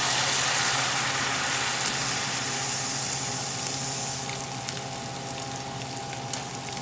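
Two cups of water poured into a pot while cooking cabbage with browned bits, a steady close rushing splash that eases off partway through with faint clinks.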